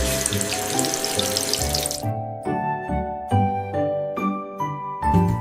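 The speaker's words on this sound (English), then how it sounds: "I am washing." Water runs into a sink during washing, a broad hiss for the first two seconds that gives way to gentle splashing and clinking under a steady background drone.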